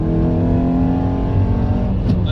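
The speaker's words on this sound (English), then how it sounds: "the sound of this car is what I love the most" A Toyota Corolla T Sport engine revs loud and close, a steady throaty drone holding strong throughout with a slight rise near the end.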